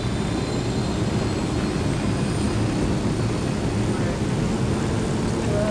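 A helicopter in Ghost Recon Wildlands drones with a steady low rotor rumble that stays loud and unbroken, with no talk over it.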